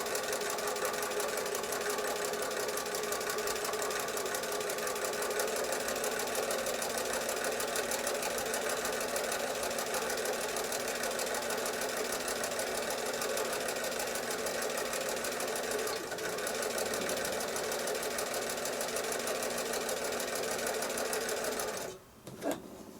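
A sewing machine runs steadily, stitching a quarter-circle seam on a quilt block, with a constant close mechanical whir that stops abruptly near the end.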